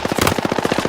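In Battlefield 6, an automatic weapon fires a fast, even burst of about a dozen rounds in one second, loud and close, with no one talking.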